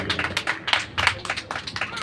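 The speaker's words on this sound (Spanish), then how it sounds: "Un aplauso al Señor." A church congregation claps together after a prayer, the sharp hand claps landing in a quick, uneven rhythm at moderate loudness, with some voices mixed in.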